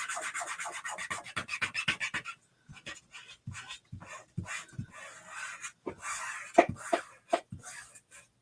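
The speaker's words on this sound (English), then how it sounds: "So now I'm going to burnish these letters down." Chalk transfer letters are burnished onto a 14-inch wood round with a series of quiet, close rubbing strokes in uneven bursts separated by short pauses, with no voices.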